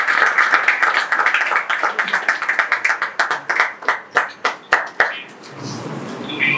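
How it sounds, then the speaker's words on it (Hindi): A small audience claps for an ustad at a musical apprenticeship (shagirdi) ceremony, dense applause thinning into separate loud claps that stop near the end. "भरपूर तालियों के साथ उस्ताद तारिक खान"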